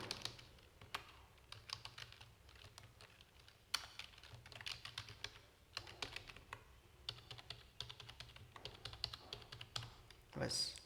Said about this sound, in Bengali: নেম লিখলাম